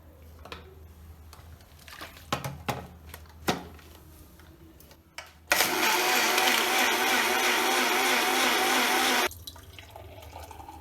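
A kitchen mixer grinder whirs loud and steady for about four seconds as it grinds a small spoonful of salt with khoa for nimbu shikanji, preceded by clinks and faint handling sounds.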